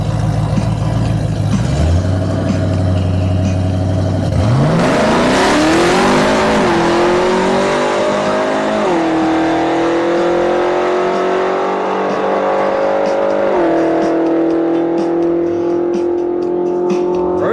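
A Gen Camaro drag car at a drag strip launches and roars down the track, its loud engine rising through successive gear changes with sharp upshifts, close and continuous throughout with no talk.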